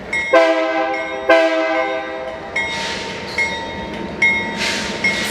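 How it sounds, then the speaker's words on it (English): A freight train horn sounds several short, loud blasts with a bright chord as the train starts up, followed by ringing and rumbling from the rail yard. "Starting horn."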